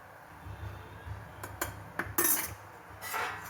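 A spoon stirs fenugreek greens in a cooking pan, giving several scattered metallic clinks and scrapes that grow busier toward the end over a low background hum.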